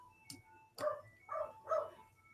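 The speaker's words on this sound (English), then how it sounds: "Oh, the black dog is barking." A black dog barks three or four times, sharp yips followed by fuller barks in an irregular sequence, moderately close in a quiet indoor setting with no talking.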